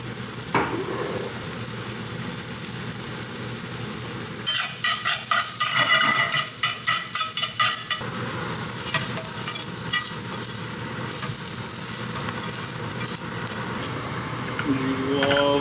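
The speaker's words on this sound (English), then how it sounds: "dry roasting or dry frying mushrooms in a pan like this is good to get the flavor out" Mushrooms dry frying in a pan without oil, a soft steady sizzle with bursts of scraping and rhythmic stirring clatter in the middle, close up.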